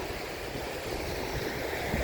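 Ocean waves at Gwangalli beach wash in as a soft, continuous hiss of surf, faint and steady throughout with no distinct individual breakers.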